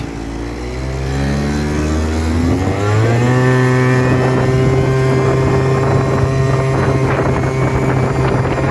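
A Kymco MXU 50 quad fitted with a Malossi 70cc kit, 19 mm Malossi carburettor and Narak variator accelerates hard, its engine note climbing steeply and then holding a loud, buzzing high pitch, with wind noise buffeting the microphone.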